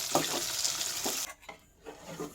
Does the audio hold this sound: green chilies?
yes